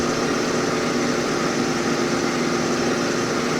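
Steady, loud droning rumble of an Antonov An-2's radial engine idling in the Aerosoft flight simulator, continuous and unvarying throughout with no voices.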